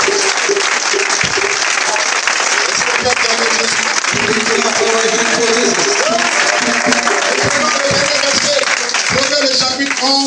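A church congregation at a Sunday thanksgiving service applauds and cheers loudly and continuously, with a voice heard over the dense clapping.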